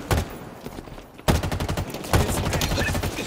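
Rapid automatic gunfire in Halo Infinite multiplayer, loud bursts of close shots with a brief pause, then two sustained rattling volleys in quick succession.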